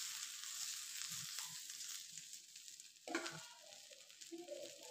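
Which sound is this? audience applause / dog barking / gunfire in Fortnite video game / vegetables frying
vegetables frying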